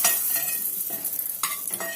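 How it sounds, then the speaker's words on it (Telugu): Oil sizzling and crackling in a pan on the stove while cooking capsicum curry, with stirring scrapes and a steady close hiss throughout, no talking. "నూనె వేస్తాను."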